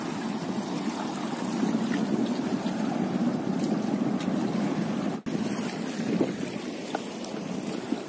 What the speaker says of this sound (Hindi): तो देखिए यहाँ पे पानी किनारे पे आ रहा है,